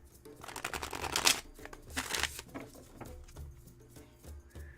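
A deck of oracle cards being shuffled by hand, with crisp riffling bursts around one and two seconds and then softer handling noises, close and fairly quiet with no talk.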